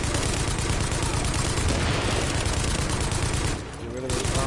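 Gunfire in a Tom Clancy's multiplayer game, a dense, continuous loud burst of automatic shots and explosions with a brief dip near the end, with a voice faintly mixed in.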